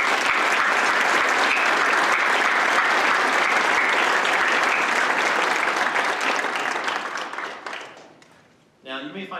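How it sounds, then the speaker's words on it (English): An audience at a Salute to Veterans event in a performing arts center applauds a veteran awarded the Bronze Star, dense sustained clapping that fades out near the end, followed by a voice. "And I believe that, for sure, is worthy of a round of applause."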